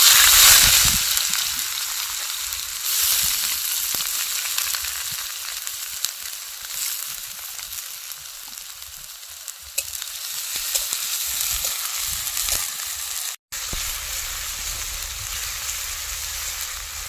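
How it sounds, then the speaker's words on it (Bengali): Onions hit very hot oil already crackling with whole garam masala spices for a village-style chicken liver chorchori, giving a loud, steady, dense sizzle that runs unbroken, with no voice over it. "প্রচণ্ড হিট হয়ে গিয়েছে দিয়ে দেবো পেঁয়াজগুলো"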